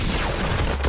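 A gunshot in a video game: one loud, dense, saturated burst of firing noise filling the whole short moment, with no voices.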